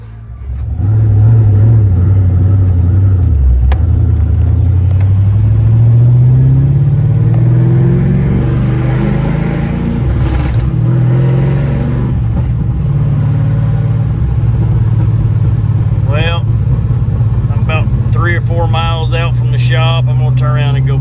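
An LS-swapped Chevy S10 pickup with a T56 manual transmission drives along, its engine rumbling loud and close, rising and falling in pitch as it pulls through gears, with a voice speaking briefly near the end.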